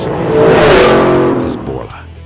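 A 2011–2014 Ford Mustang GT with a Borla exhaust revs loudly up to a peak and then settles back down, with a voice speaking over it.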